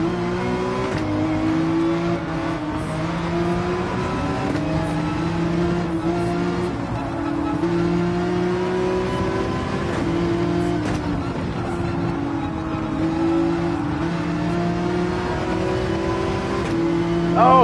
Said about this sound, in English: Boy, is that car ever accelerating coming off the turns.